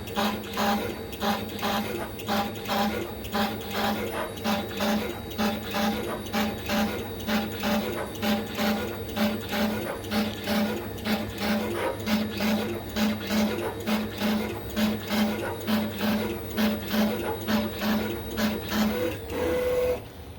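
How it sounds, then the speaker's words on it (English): A CNC machine drones steadily with a fast, regular pulsing chatter as an Amana boring bit cuts into wood, close and continuous, ending with a brief higher tone. "Listen to the sound that's occurring when the bit enters the wood."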